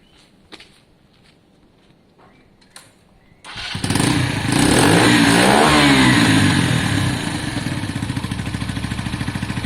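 A Kawasaki KSR Moto GRS 125 motorcycle engine, jetted for a cone filter, starts after a few quiet seconds of faint knocks, then revs loudly and steadily up close with a smooth, throbbing idle.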